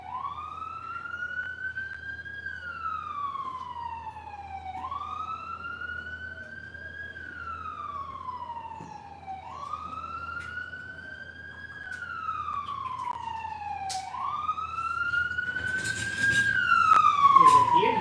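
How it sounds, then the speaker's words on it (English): An ambulance siren wails in slow, repeating rising-and-falling sweeps, fairly close and growing louder toward the end as it passes along the street. "Coming here, ambulance? Why are you so close?"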